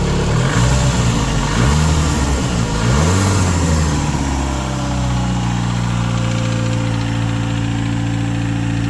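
The engine of a finished Rabbit truck, a small pickup, revs a few times with wavering pitch, then settles into a steady, vibrating idle, running loud and close with no talk.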